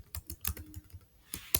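Computer keyboard keys clatter in a quick burst of close, crisp taps, then pause and resume with two sharper presses, as a key combination is typed to select all text, with no talk.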